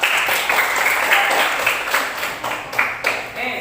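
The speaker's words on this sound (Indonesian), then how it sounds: "Kelompok 5, tepuk tangan dulu ya" Students in a classroom clap for group 5, a steady, fairly loud round of applause lasting a few seconds with voices mixed in.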